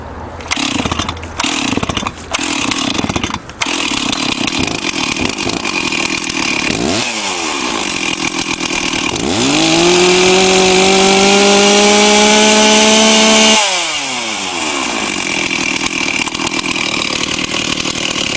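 A Stihl MS360 chainsaw with fresh spark plug, compression release out and no choke, catches after a few sharp pull-cord tugs, idles loudly up close, then revs to a sustained high-pitched scream for several seconds before dropping back to a rough idle.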